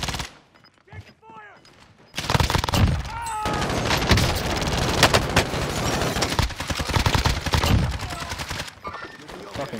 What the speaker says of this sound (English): Fucking gun wouldn't stop shooting.